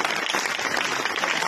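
Children clapping together at a government elementary boys' school health session, a dense continuous patter of many small hands, fairly loud and even throughout, with faint voices underneath.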